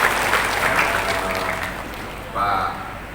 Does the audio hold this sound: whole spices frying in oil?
no